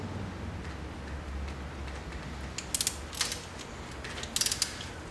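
A torque wrench clicks faintly while tightening spark plug bolts on a Honda Accord, a few sharp little ratcheting clicks in short bursts against a quiet background.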